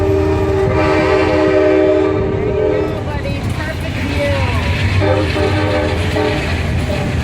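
Amtrak Downeaster passenger train near Old Orchard Beach, passing close with a loud sustained horn blast, then rumbling wheels and rail clatter as cars roll by, with people talking over it.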